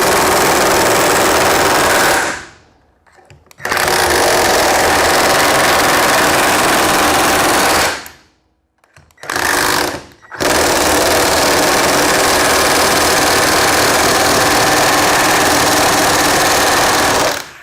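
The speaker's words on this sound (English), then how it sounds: "Milwaukee palm nailer." A Milwaukee battery-powered palm nailer hammers in loud, rapid bursts of pulses, running several seconds at a stretch with a few short pauses between runs.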